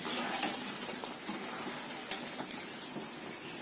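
Onion bonda frying in hot oil gives a continuous hissing sizzle with scattered pops and crackles, steady and fairly close throughout.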